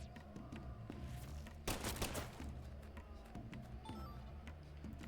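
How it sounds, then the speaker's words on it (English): Psycho gun firing in Deadly Premonition 2, a rapid stream of soft shots over a steady game background hum, with one louder burst near the middle, fairly quiet overall. "Holding down the fire button to charge the psycho gun, aim it towards an enemy to lock on"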